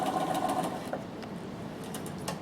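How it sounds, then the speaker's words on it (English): A Bernina sewing machine stitching fabric, a close rapid mechanical whirr with rhythmic needle ticks that eases off midway and then continues more quietly. "you just do want to sew from point A to point B there"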